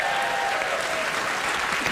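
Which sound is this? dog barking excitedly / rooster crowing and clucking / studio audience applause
studio audience applause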